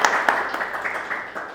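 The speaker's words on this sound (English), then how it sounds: "clap for Curtis" Audience clapping for a guest speaker at an arts finance talk, a short burst of scattered hand claps at moderate distance, fairly soft and steady.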